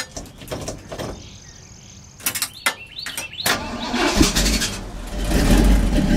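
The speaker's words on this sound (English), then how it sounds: "Hit the starter button and I'll bet it fires right up." An engine with a Quadrajet carburetor cranks and catches after a few sharp clicks and bumps, then settles into a building, steady rumbling idle close by.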